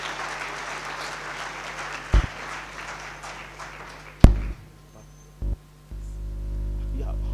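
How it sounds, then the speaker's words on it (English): Audience applause for a panel at a commemorative event on the Freedom Charter and the State of Emergency, steady clapping from a crowd that fades out partway through, broken by a few loud thumps and handling bumps, with a low hum continuing after. "Can you please give them a round of applause?"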